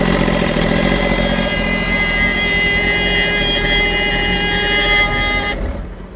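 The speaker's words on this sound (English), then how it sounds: "So for whatever reason, our horn is just permanently engaging." A damaged auction-bought boat's horn stuck on, blaring one continuous loud tone over an idling engine on a lake, then cutting off abruptly near the end as the engine rumble fades.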